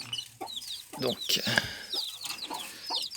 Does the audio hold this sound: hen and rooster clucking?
yes